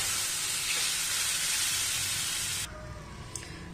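Mashed banana sautéing over a low flame in a pan gives a steady, close sizzling hiss that cuts off abruptly near the end, leaving quieter background noise.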